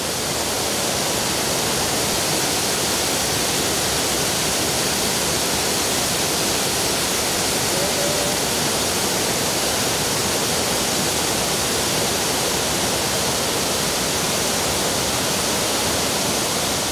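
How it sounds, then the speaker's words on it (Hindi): Sirki waterfall near Pasighat in Arunachal Pradesh roars without a break, a loud, dense, unbroken wash of falling water heard close up. "यही चिरकी जलप्रपात है"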